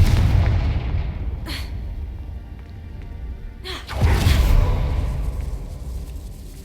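The Confringo fire spell from Hogwarts Legacy goes off as two booming explosions with rumbling tails, loud and close, the second bigger than the first.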